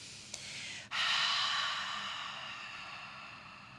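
A single long, breathy exhale with an open HA quality, after a brief sharp intake, during a MELT body-release class; steady airy hiss that slowly fades, close and alone.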